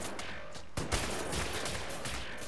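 Gunfire in the shooter Wolfenstein: The New Order, rapid bursts of shots with sharp cracks, the loudest near the start and continuing through the clip.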